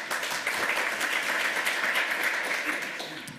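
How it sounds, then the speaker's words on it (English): Audience at a hacker conference's lightning talks bursts into sustained applause, a thick, even roar of many hands clapping with a few sharper individual claps poking through. "Applaud if you like it."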